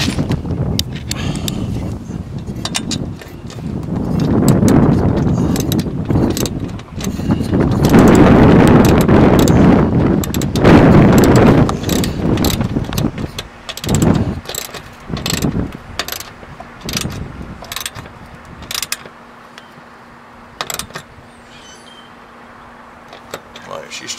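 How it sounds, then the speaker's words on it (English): A hand ratchet tightens a solar panel mount on a roof, giving rapid clicking runs in bursts that fade to sparse clicks, over outdoor background noise. "I'm gonna have to loosen that up a little bit. Until I get it tightened. Got my ratchet"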